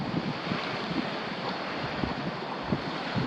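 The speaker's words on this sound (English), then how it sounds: "Waves are crashing in, getting a little bit more surf out on this point out here." Ocean surf washes onto a beach near Haleiwa and Waialua in Hawaii, a steady soft roar of breaking waves mixed with wind noise on the microphone.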